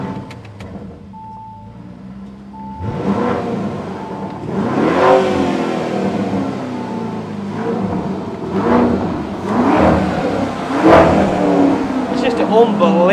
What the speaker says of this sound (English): This one has, from the factory, the Akrapovic exhaust